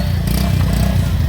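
A once-junked MSE motorcycle engine, restored and running, gives a loud, rough, steady drone with a little clatter, close up.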